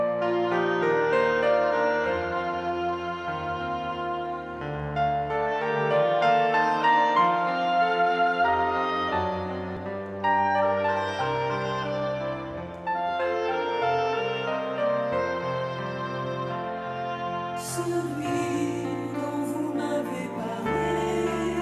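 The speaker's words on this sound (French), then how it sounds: "C'est un chant de Robert Lebel qui nous parle de catéchèse" A sung chant by Robert Lebel about catechesis plays continuously for over twenty seconds, a full, steady musical performance with voice and accompaniment and no talk over it.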